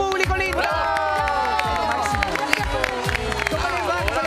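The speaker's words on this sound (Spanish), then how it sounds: "¡Aplauso para este público lindo!" A Chilean TV studio audience cheers, shouts and applauds in a loud, sustained burst, with excited voices of adults and children mixing through the noise for several seconds.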